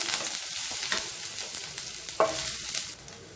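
Mustard seeds, urad dal and ginger sauté in hot oil for a Navaratri sundal, giving a steady close sizzle with scattered crackles and the scrape of a spoon stirring through the pan, with no talk.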